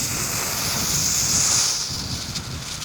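Gusty wind blowing outdoors on a windy day, a steady roar with microphone buffeting that swells in the middle and eases off, with faint higher hiss.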